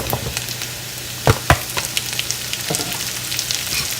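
Onions sizzle in butter with garlic in a pan, a steady close frying hiss broken by two sharp clatters early on and lighter scrapes throughout.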